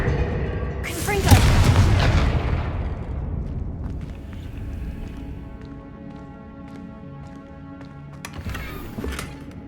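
A Confringo spell explosion in Hogwarts Legacy lands as one loud, close boom that rumbles and fades over several seconds, followed by faint game ambience and small clicks.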